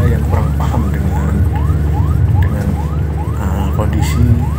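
An ambulance siren wails in busy road traffic, rising sweeps repeating steadily and loudly over constant engine and traffic noise.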